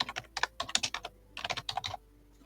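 Computer keyboard typing in two quick bursts of clicking keystrokes, close and clear with no talking, while a bio entry is renamed during an AI biography-generator tutorial.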